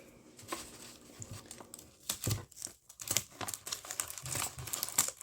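Paper scrunched by hand while building a paper dragon puppet, with tape nearby: close, irregular crinkling and crumpling bursts that come and go over several seconds, with no talk.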